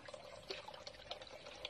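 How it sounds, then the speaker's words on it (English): Faint splashing and trickling mountain spring water runs into gallon containers, with small irregular drips and pours, quiet and close. "look at Ate Baday, she's going to fill the gallons"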